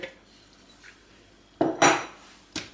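Chopped potatoes and eggs are scraped and tipped into a larger bowl for a grilled potato salad, giving a few sharp clinks and scrapes of dishware after a quiet start.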